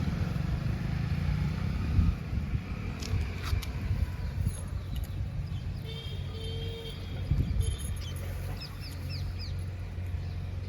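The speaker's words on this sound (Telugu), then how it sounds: "రోడ్డు కదండి, ట్రాఫిక్ ఎక్కువ ఉంటుంది" Road traffic beside a home garden, a steady low rumble of passing vehicles with a motorcycle engine rising and fading, while birds chirp faintly in the background.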